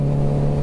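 A Hemi 392 V8 car engine with an aftermarket exhaust idles with a steady, loud low growl, a constant deep drone filling the short moment with no change in pitch.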